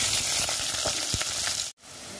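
Onion and cumin sizzle in hot oil, a bright continuous frying hiss with light stirring taps that cuts off abruptly near the end.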